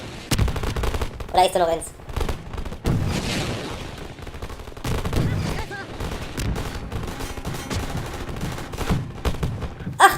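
Gunfire in the game Half-Life 2, bursts of shots and rattling fire spread through the stretch at moderate loudness, mixed with someone talking and laughing over it.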